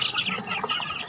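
Gamecocks kept for cockfighting clucking and crowing in short, close bursts that run steadily through the clip, with no talking.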